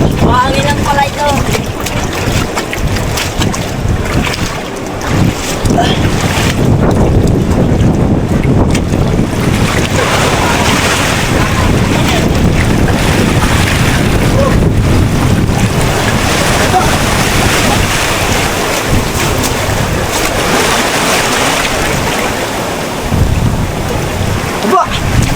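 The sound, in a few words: strong wind on a boat at sea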